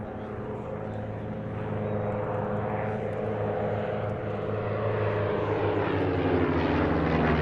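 Propeller aircraft at an airshow roar past during a crossing manoeuvre, a loud, sustained engine drone that swells and slowly drops in pitch as the planes pass overhead, with no voices.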